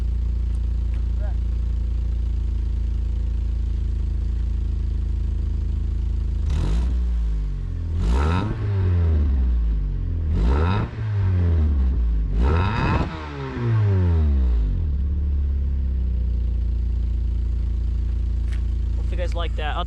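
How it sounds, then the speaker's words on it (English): A 1991 Honda Prelude Si engine held at a steady idle, then blipped through several sharp revs in quick succession before settling back to idle, loud and close. "Okay, you guys ready for some revs?"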